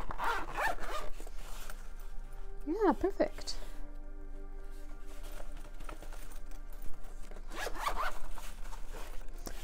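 A zipper being drawn closed on a slot pencil case holding art pencils, giving a loud, close, quick rasping pull, with brief zipping at the start and end and someone talking briefly.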